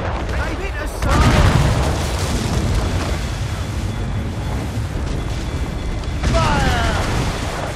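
Heavy cannon fire booms out during a naval battle in Assassin's Creed Rogue, with repeated deep blasts and rumbling impacts over a continuous battle din, and shouted voices mixed in.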